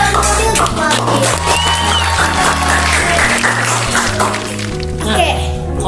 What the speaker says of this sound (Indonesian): tepuk tangan lagi untuk Labib